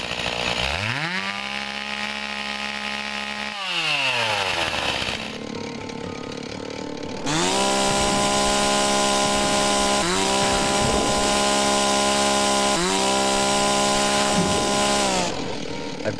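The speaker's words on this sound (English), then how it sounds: "I was fortunate enough to procure a gas chainsaw from a friend" A gas chainsaw engine roars loudly and steadily, revving up and down several times with brief drops to idle between bursts.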